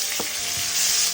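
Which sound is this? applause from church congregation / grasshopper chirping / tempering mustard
tempering mustard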